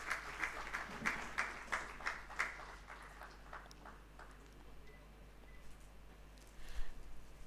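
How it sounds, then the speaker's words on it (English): Audience at a live medical conference on pediatric cancers clapping, a rhythmic burst of claps that thins out and fades over several seconds, followed by quiet room noise and a faint thump. "A big round of applause, ladies."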